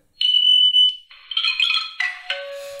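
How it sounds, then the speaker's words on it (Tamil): Bell sound effect from the InShot video editor app: a sequence of bright electronic ringing tones in several pitches, struck in quick succession with short decays, loud and isolated with no talking. "இப்போ பெல் சவுண்ட் இருக்குது."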